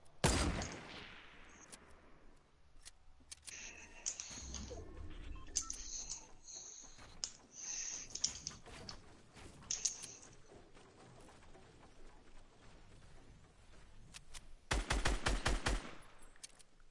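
Pistol fire in a Fortnite match, scattered sharp shots through the middle and a fast burst of rapid cracks near the end, with softer game noises in between.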